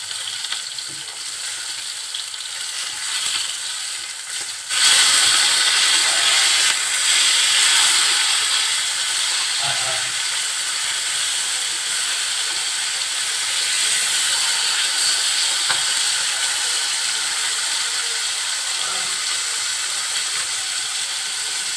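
Rohu fish sizzling loudly in hot oil in a pan, a steady broadband crackle that jumps sharply louder partway through and then holds constant, with no talking.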